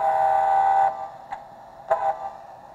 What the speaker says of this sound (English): a blast of the horn